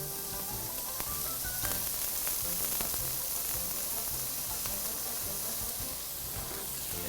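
Minced onions fry with sausage in a pan, giving a steady, dense sizzle and hiss that carries on without a break throughout.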